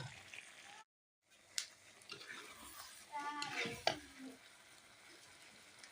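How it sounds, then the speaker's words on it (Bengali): Chickpea dal and chicken being sautéed and stirred in a pan, with faint sizzling and soft scraping strokes that pick up midway after a short dropout; quiet overall. "এখন আর একটু কষিয়ে নিব।"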